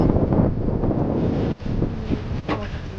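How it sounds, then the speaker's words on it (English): Steady wind rushing past the microphone while a sailboat cruises gently under full genoa and two-thirds mainsail, loud and continuous with brief dips, no talk. "The wind was constant and we had a very gentle sail."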